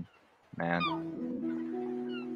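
A seagull in the beach area of the Pavia metaverse video game gives a loud, nasal honking cry that holds and wavers for nearly two seconds, after a brief spoken word.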